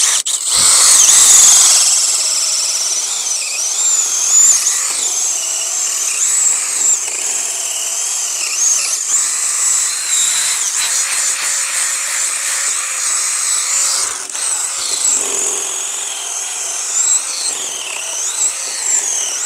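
A cordless drill whines steadily and loudly as it mills a nesting hole straight into a tree trunk, the motor pitch wavering under load for a long continuous stretch with no talk.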